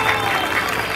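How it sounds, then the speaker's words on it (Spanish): A crowd gives loud applause at a Mother's Day school event, dense clapping close and even throughout the brief moment, with a faint murmur of voices mixed in. "fuerte aplauso."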